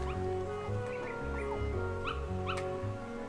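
A cartoon Dalmatian puppy in Kingdom Hearts gives a run of high yips and whimpering barks over steady game music, several short calls in quick succession, clear and upfront.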